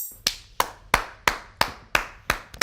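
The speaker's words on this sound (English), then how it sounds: "Are you clapping me?" Eight slow, evenly spaced hand claps from a single person, sharp and close, with short decays between them and no voices.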